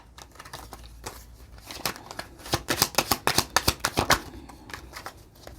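A deck of tarot cards being shuffled by hand, a rapid run of crisp riffling flutters building to a dense burst in the middle, close and fairly quiet, with no talking.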